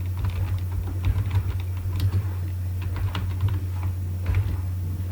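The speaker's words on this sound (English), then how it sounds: "Now let us type hello from Indian Coder." Steady, close typing on a computer keyboard, quick irregular key clicks over a constant low electrical hum, with no one speaking.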